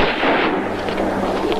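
A single gunshot in a Mexican action film, fired not far away, comes as a loud broad burst over a dense, continuous noisy soundtrack.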